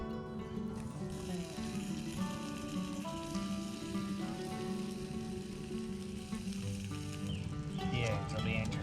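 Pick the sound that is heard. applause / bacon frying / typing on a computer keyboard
bacon frying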